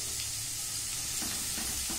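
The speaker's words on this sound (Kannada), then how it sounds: "ಇದಕ್ಕೆ ನಾನು 1-2 ಟೀ ಸ್ಪೂನ್ ಮೈದಾ ಹಾಕಿ ಫ್ರೈ ಮಾಡ್ಕೊತಾ ಇದ್ದೀನಿ" Chopped onions with a spoonful of maida flour fry in a pan with a steady, close sizzle and occasional soft stirring scrapes.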